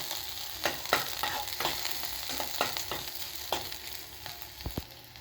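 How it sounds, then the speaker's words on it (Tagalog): Onion and garlic frying in hot cooking oil, a steady loud sizzle with repeated stirring scrapes and clicks of a utensil against the pan, close up and without talk. "Pag mainit na yung mantika, ilagay natin yung sibuyas. Isunod naman natin yung bawang."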